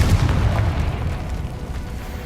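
A Confringo explosion spell cast in Hogwarts Legacy, a loud booming blast with a deep rumbling tail that fades gradually, with no talking.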